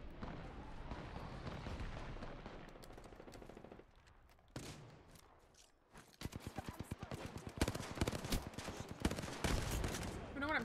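Automatic weapon fire in Apex Legends rattles in rapid bursts, loud and close, with repeated sharp cracks building toward the end over a dense layer of game noise.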